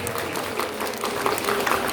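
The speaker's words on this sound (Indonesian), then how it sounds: "Kalau mau lihat mana semangat tepuk tangannya." Audience at a dolphin show in Central Java clapping in a steady, dense wash of applause that fills the whole moment, fairly close and even in loudness.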